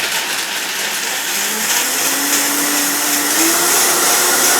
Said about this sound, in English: I always like to start the blender off on slow and then crank it up to high.